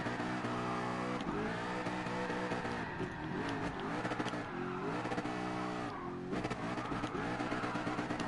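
A drift car's engine revs hard and holds high after a missed shift into first instead of third, its steady harmonic drone rising and dipping, with tire noise and no voices.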